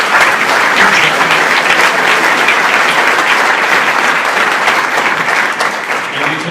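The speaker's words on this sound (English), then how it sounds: "They deserve a real round of applause and a lot of credit for making this happen." A hall audience at a 2016 Utah governor candidates debate breaks into sustained, dense clapping that holds steady for several seconds before easing slightly at the end.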